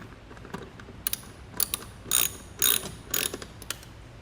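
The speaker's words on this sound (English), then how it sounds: "to get those lock nuts engaged, we're going to take a 10 mil and tighten it up" A 10 mm wrench ratchets while tightening the lock nuts on extendable towing mirrors, giving a few short bursts of quick metallic clicking with gaps between them, close up and alone.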